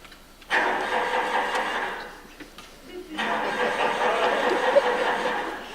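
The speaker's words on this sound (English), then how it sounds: "Daedalus sets the special shovel in motion, creating a winding tunnel stretching out of Crete." A mechanical digging shovel machine starts up as an audio drama sound effect, a steady mid-pitched engine drone that cuts out briefly and then resumes, loud and close.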